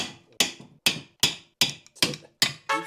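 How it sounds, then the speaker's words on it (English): Hammer blows pressing a rear upper arm bushing on a Toyota Altezza SXE10, seven sharp metallic strikes in a steady rhythm, loud and close with brief ringing after each hit. "What if the hammer's just not big enough?"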